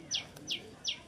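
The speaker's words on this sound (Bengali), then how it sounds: "এই একটি কবুতর, অসাধারণ কবুতর।" A male pigeon gives three short, high chirping calls at an even spacing, close and fairly faint against a quiet background.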